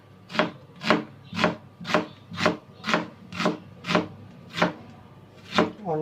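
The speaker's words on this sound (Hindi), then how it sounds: "अब हम कट करने जा रहे हैं ऑनियन" A knife chops onion for a salad on a board with about eleven evenly spaced, crisp strikes, each a sharp thud with a brief scrape, unhurried and close.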